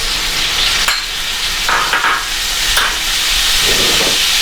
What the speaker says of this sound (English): So now I'm going to add the tomatoes.